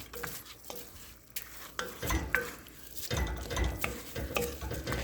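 A spoon stirs a rice mixture for arroz con gandules in a pot, with scraping and clinking strokes over a soft, steady sizzle, close and moderately quiet.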